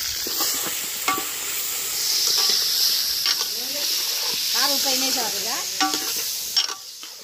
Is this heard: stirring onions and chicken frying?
yes